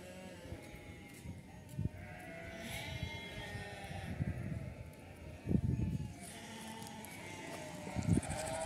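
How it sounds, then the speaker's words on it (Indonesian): Sheep bleat repeatedly inside a pen with a bare earth floor, several animals calling at varied distances over a steady background din, with no talking. "Ini kandang domba dalam bentuk lantai tanah."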